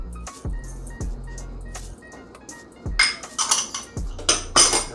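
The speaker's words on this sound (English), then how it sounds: "And whisk that up, and then we got us a nice glaze." A whisk clinks against a bowl while powdered sugar, key lime juice and almond extract are mixed into a glaze, with scattered taps early on and then a busier run of scraping, rattling strokes near the end.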